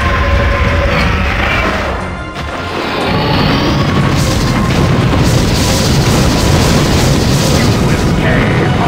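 Broadside battery cannons fire in Godzilla: Unleashed, a loud close crash and boom followed by a dense, sustained rumble of repeated blasts and debris that continues for several seconds.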